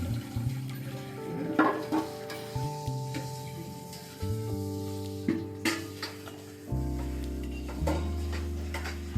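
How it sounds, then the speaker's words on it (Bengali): Sesame laddoos (til naru) frying in a pan, a steady sizzle with repeated scrapes and taps of a spatula against the pan, close and continuous throughout. "এবার আমি সব নাড়ুগুলো এক এক করে ভেজে নিচ্ছি।"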